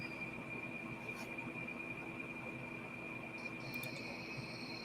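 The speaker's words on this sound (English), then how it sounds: "I can hear all your little crickets." Crickets chirp steadily outdoors on a chilly night, a thin continuous trill held at a low, even level with faint background hum and no talking.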